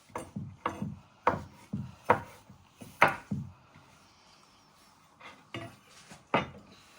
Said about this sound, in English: you finally want to chop it into little pieces with your fingers out the way